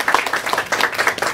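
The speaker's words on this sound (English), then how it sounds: "a big hand of applause" Audience at a health talk on supplements gives a short round of applause, brisk close clapping from a small group that lasts just over a second.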